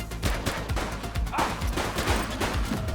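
Rapid gunfire crackles in The Precinct, an open-world police simulator game, with dense overlapping bursts of shots forming a continuous loud fusillade across the whole stretch.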